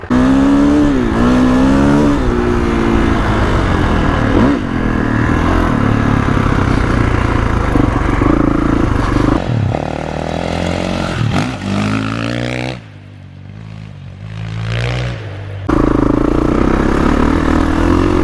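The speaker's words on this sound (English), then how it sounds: "First trail ride on the KX450X." A 2021 Kawasaki KX450X dirt bike roars loudly and close on a trail ride, its engine revving up and down as the throttle rises and falls, with a brief quieter dip near the end.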